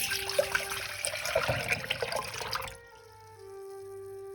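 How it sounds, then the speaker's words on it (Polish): A litre of water splashes and gurgles as it is poured steadily into a small pot, then stops abruptly, leaving a quiet electric hum. "Do garnka wlewamy litr wody."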